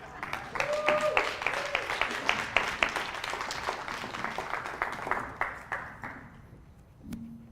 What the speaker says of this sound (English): Let's give her another hand, another round of applause.